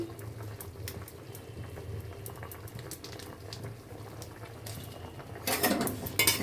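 Chhana kofta with potol and potato simmering in a pot, a low steady bubbling with faint utensil clicks, and a brief louder rush of liquid and clatter near the end.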